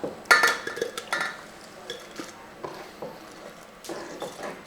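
Chopped onions, tomatoes and green chillies for a restaurant-style egg curry drop into a pressure cooker with a scatter of close metallic clinks and scrapes. The taps are short and uneven, then softer thumps follow in a quiet kitchen.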